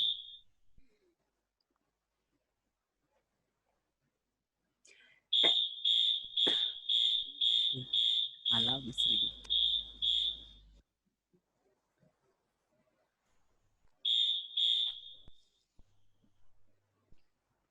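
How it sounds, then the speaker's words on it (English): A home alarm system sounds a high, piercing electronic beep repeated in a steady pulsing train for several seconds, with a brief spoken remark and some handling noise partway through, then falls silent and returns for a shorter burst of beeps. "that's my alarm system going off."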